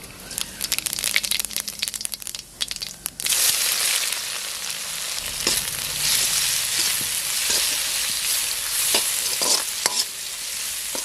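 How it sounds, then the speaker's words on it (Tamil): Sliced onions fry in hot oil with fennel seeds in a pan for a pepper chicken gravy, giving a loud, steady sizzle broken by scraping stirs and clattering spoon strokes near the pan. "அது சோம்பு பொரிஞ்சதுக்கப்புறம் இந்த வெங்காயத்தை போட்டு நல்லா வதக்கலாம்."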